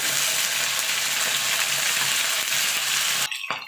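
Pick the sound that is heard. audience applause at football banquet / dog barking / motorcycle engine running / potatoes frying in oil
potatoes frying in oil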